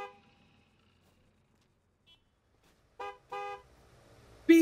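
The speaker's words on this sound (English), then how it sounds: "Why are you honking?" A car horn honks twice in quick succession, loud and close, after a stretch of near silence; a third blast begins just as the sound cuts off.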